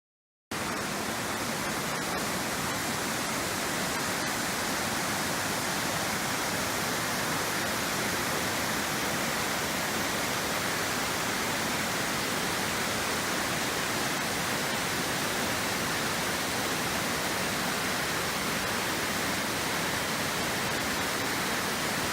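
St Columba's Falls, an inland waterfall in Tasmania, roars as a steady, dense broadband rush of falling water, loud and unbroken for the whole stretch with no voices.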